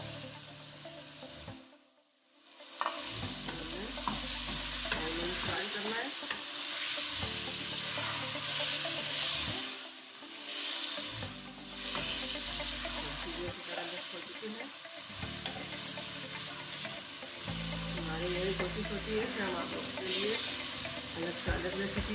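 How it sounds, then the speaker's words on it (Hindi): Meat (gosht) fries in a pan with tomatoes for achar gosht karahi, hissing and sizzling steadily while a spoon scrapes and stirs in repeated bursts with brief pauses, close and clear. "5 मिनट हम गोश्त को फ्राई करेंगे"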